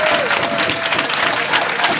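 Students in a classroom clapping together, a brief, dense and steady burst of applause close by.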